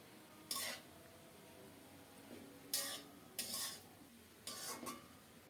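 Spice paste being stirred into bottle gourd greens in a pan, heard as a few separate scraping strokes of a spoon against the pan with quiet gaps between them, faint and with no voice.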